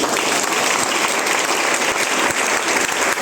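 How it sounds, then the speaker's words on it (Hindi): Loud, dense applause from a large audience at a Friday training session, steady clapping filling the whole stretch without a break. "जोरदार ताली बजाइए"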